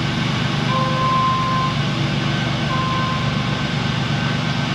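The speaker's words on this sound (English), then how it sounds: "When you back up, it beeps at you." Two long, steady electronic tones beep a couple of seconds apart over a loud, constant mechanical hum in a repair shop, an electric car's reversing alert.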